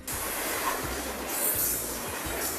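A train passes by the Norcross train station, a loud, steady rolling rumble of rail cars with faint wheel squeal, close by and continuous with no talk.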